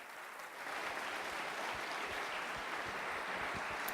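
Conference audience applauding after a talk, a dense continuous wash of clapping that swells in after a moment and holds steady at moderate volume.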